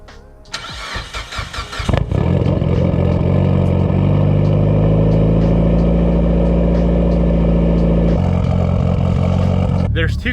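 A Subaru STI-style car engine fires up from cold with a sharp cranking catch, then settles into a loud, steady high idle with a deep rumble, dropping slightly as the revs ease near the end.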